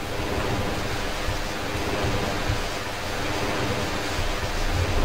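Water in the game Half-Life gives a steady, dense rushing wash like surf or a waterfall, continuous and fairly loud with no pauses.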